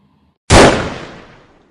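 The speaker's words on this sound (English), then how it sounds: "An ear-shattering bang echoed across the cabin, being the loudest sound I'd ever heard before." A single sharp gunshot fired inside a cabin in a horror story: a sudden loud bang after near-silence, with a long decaying echo trailing off over about a second.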